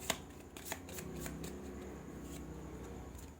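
A deck of cards is shuffled for a card reading: a couple of crisp riffling snaps at the start, then a steady soft flutter of cards sliding together, close and unaccompanied by talk.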